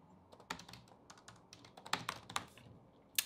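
Close, irregular keystrokes rattle on a computer keyboard as a short blog post is typed, with quicker bursts of clicks and brief pauses between words.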